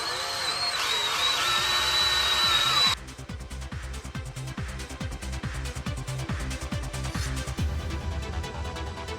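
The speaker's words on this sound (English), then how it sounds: "It's actually, I just remembered these are aluminum bars, so that it should drill through it pretty easily." A power drill bores through aluminum handlebars on a Sur Ron Light Bee electric bike, first as a loud steady whine, then as a rougher stuttering grind with rhythmic catches as the bit bites into the metal.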